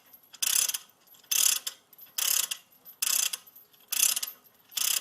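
A ratchet spanner is worked to undo a road wheel nut during a safety demonstration, giving five close, loud bursts of rapid clicking separated by short pauses as the handle swings back and forth.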